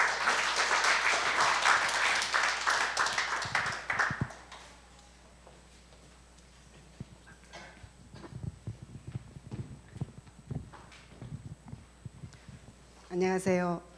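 An audience at a church regional camp forum applauds loudly for about four seconds to welcome the next speaker, then the room falls quiet with scattered thumps and a short burst of voice near the end.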